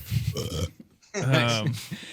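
Loud, close human burp, a drawn-out croaking belch lasting about half a second, flanked by other vocal noise.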